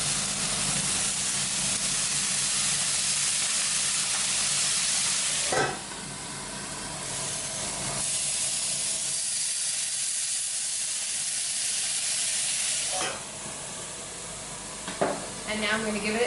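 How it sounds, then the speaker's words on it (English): Apple cider vinegar hits hot potatoes in a pan for a German-style meal, giving a loud, steady, close sizzle that briefly dips twice before hissing on, with no voices. "So I'm going to hit this with a little bit of apple cider vinegar on both."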